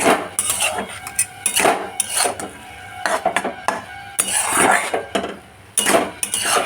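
A utensil stirs vegetable Maggi noodles with egg in a pan, close up, with repeated scraping strokes and metallic clinks in an uneven rhythm. No one speaks.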